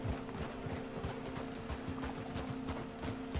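Horse hooves clip-clop at a steady walking rhythm in Red Dead Redemption 2, a large-framed horse plodding along over a constant low hum, faint and continuous throughout with no talking.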